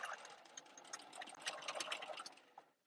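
A sewing machine stitching vinyl mesh runs steadily for a few seconds, its needle whirring in a quick, even rhythm up close before slowing to a stop.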